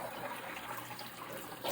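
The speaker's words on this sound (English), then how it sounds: "I'm going to put in 2 cups of hot water." Hot water is poured from a bowl into an electric pressure cooker holding rice, a steady close splashing trickle lasting under two seconds with no speech.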